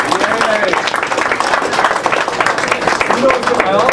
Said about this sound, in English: I always get a nice little clap when I say that